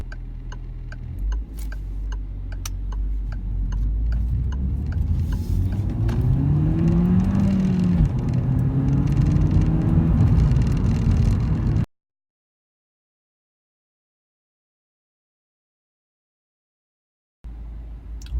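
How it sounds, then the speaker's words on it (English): A Peugeot 208 GTI pulling away from a junction up to 40 mph, its engine note rising steadily under loud, constant road and cabin rumble with a soft ticking early on, then cutting to sudden silence. "we'll accelerate from there, and I'll see, show you how quickly it can get up to 40 miles an hour"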